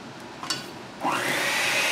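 Electric mixer beating brown sugar cinnamon loaf batter, starting after a brief clatter with a sharp whirring rise and then a steady, fairly loud motor drone that runs to the end, no voices.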